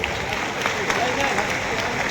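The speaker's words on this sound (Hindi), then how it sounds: "तालियां बजती रहनी चाहिए।" A crowd claps steadily at an award ceremony in a town hall. The dense applause runs through the whole stretch, partly under a voice talking.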